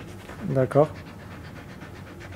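A police detection dog trained to find weapons and ammunition pants quickly and steadily nearby, and a person briefly speaks over the breathing.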